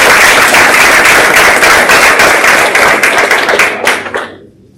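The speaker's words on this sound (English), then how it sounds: "And probably all these students also deserve a round of applause." Graduating seniors get a round of applause at a school board meeting, with dense, loud, steady clapping from a room full of people that carries for several seconds, then thins out and stops near the end.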